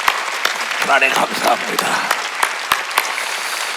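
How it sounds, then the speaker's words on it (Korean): A church congregation claps during a Korean Easter Sunday service, a steady ripple of applause filling the room while a pastor speaks over it. "하나님께 박수 칩시다."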